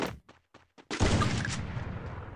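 A single loud gunshot from a first-person shooter game, likely an AWP sniper rifle, booming and then ringing out with a long fading tail, preceded by a few short clipped sounds.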